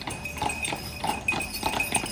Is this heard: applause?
no